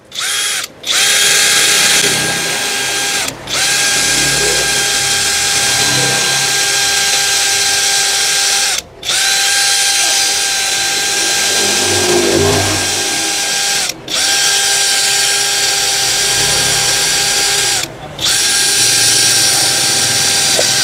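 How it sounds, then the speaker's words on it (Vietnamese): A cordless battery-powered Workfix drill bores through steel, a loud, steady high whine running almost continuously with four brief stops where the trigger is released. "Khoan đây thử nha"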